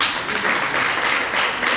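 An audience at a Jain religious discourse class claps together in a steady, dense burst of applause that runs the whole moment at even loudness, with no one speaking over it.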